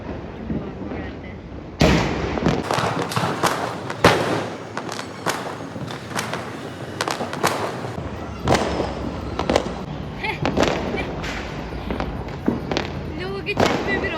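Sky shot fireworks bursting over a village during Diwali, a dense run of sharp cracks and booms, some close and loud, others farther off, with voices talking underneath throughout.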